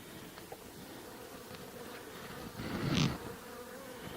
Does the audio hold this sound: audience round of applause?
no